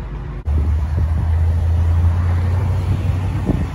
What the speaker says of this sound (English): First time ever driving a 56 Bel Air!